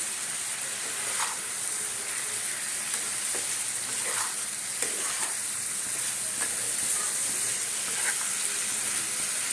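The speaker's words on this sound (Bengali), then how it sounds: "এই মশলার সঙ্গে আমি কষিয়ে নেবো সয়াবিনটাকে" Soybean chunks being fried in spice masala without extra oil, for a potato and soybean curry, produce a constant close sizzle with faint scraping of a spatula stirring now and then.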